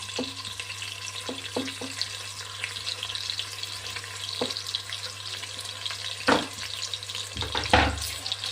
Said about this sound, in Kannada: ಇದನ್ನೀಗ ನೀಟಾಗಿ ಫ್ರೈ ಮಾಡ್ಕೊಳ್ಳೋಣ. ಇದು ಗೋಲ್ಡನ್ ಬ್ರೌನ್ ಆಗೋ ತನಕ ಫ್ರೈ ಮಾಡಬೇಕು ಚೆನ್ನಾಗಿ